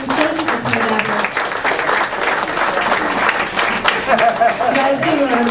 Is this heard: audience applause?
yes